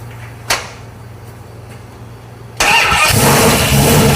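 A Ford Muscle Truck engine, fired up before the radiator is fitted, cranks with a brief click and then catches into a loud, steady roar that holds to the end.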